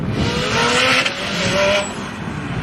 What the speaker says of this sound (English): I just love the sound of this car